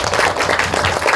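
Audience applause at a Korean lecture hall talk, a steady dense clapping from a crowd that runs through the whole short stretch.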